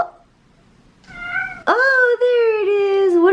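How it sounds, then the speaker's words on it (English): A cat gives a loud, clear, drawn-out meow that starts with a faint chirp and swells into a long, wavering cry, close by and alone, with only a brief break. "What a cute meow."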